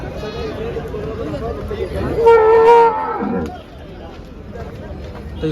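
A single loud, low moo from a water buffalo at a buffalo market rises over background chatter and farmyard noise, lasting about a second before fading.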